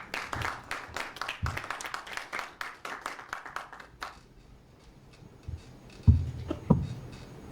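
A small audience at an NGO general assembly gives sparse, uneven applause to welcome a speaker, dying out after a few seconds, followed by scattered thumps and quiet room noise.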